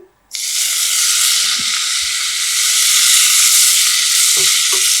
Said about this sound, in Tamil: இதோட இப்போ வேப்பம்பூ சேர்த்துக்கிறேன்.